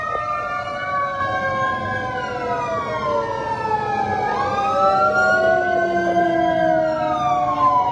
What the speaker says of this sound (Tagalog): fire truck ng Quezon City Filipino Chinese Community